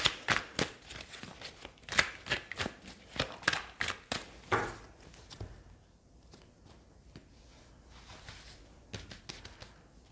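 Rider-Waite tarot cards are shuffled close by in a fast, crisp run of papery flicks and taps for several seconds, then a few scattered softer card sounds follow in near silence.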